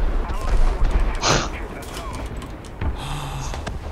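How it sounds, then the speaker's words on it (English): Friendly artillery fire during a War Thunder tank battle on Ash River, heard as a rumbling fusillade of booms under ongoing game noise, with a sharp blast near the middle and another thud toward the end. "And then friendly artillery is killing people"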